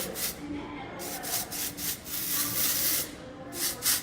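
Texture spray hisses onto hair during a short layered haircut in a salon, in a string of close, soft airy bursts of varying length.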